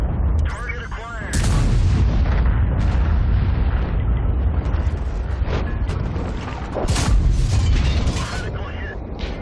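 A tank cannon in World of Tanks fires at a turret, a loud deep boom followed by a rolling rumble and more blasts and game effects, with a voice talking over the action.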